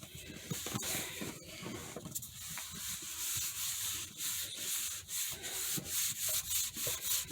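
Folded paper accordion tag holder pressed and rubbed hard, a steady close scraping and rubbing with repeated pushing strokes running for several seconds.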